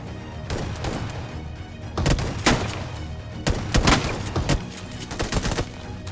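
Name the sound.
gunfire from an enemy in a shooter video game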